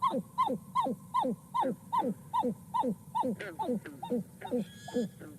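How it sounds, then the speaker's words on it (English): A pied-billed grebe calling in a marsh, a long run of loud, evenly spaced descending whooping notes, about a dozen in quick rhythmic succession, close and clear over faint background noise. "can we listen to maybe the pied-billed grebe if we get the whooping call?"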